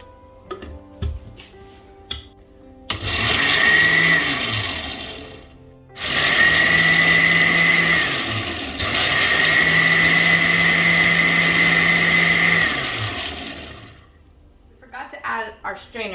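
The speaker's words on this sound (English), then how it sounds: "And then now we're going to blend it." Kitchen blender whirring through passion fruit pulp for refresco de maracuyá, three loud sustained runs separated by short pauses, with quieter clicks and handling sounds before and after.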